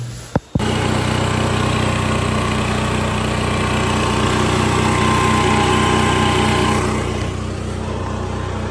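A tractor engine runs loud and steady at the start of a rough mountain road trip, a continuous droning rumble after a brief sputter at the start, close by with no talk.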